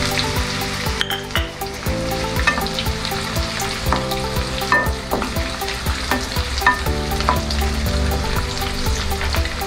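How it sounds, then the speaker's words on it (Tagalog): Onion rings for bistek Tagalog fry in oil in a pan, a loud continuous crackling sizzle with frequent spatula scrapes and taps against the pan, no one speaking. "Lutuin lang natin hanggang sa maghiwa-hiwalay yung mga rings ng onion."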